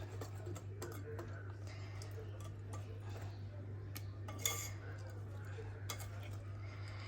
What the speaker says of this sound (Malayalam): വെനില എസൻസ് ഇതിലേക്ക് ചേർത്ത് കൊടുക്കും. എന്നിട്ട് ഇത് നന്നായിട്ടൊന്ന് ഇളക്കി